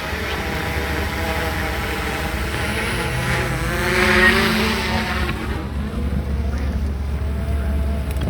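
A drone hovers and flies near a building during a commercial shoot, its steady whining buzz of rotors constant and fairly close, swelling slightly in the middle before easing.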